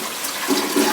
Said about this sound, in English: We're gonna flush it one more time and see